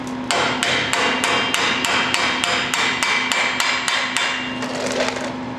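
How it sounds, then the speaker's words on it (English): Hammer blows driving the axle out of the hub on a 2002 Trailblazer, about a dozen sharp metallic strikes at a steady rhythm, loud and close, with no talk. "put that back on a hair and then drive the axle back a hair."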